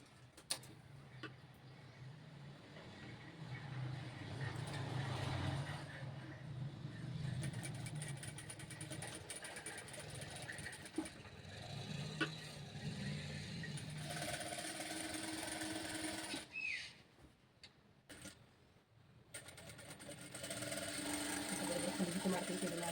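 A sewing machine runs steadily while stitching a princess-cut blouse seam, with a continuous mechanical whirr and ticking that pauses briefly near the end before resuming, and a voice talks quietly over it.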